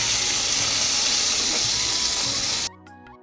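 Pointed gourd (potol) frying in hot oil, a loud steady sizzling hiss close by that cuts off abruptly near the end, leaving quiet room tone.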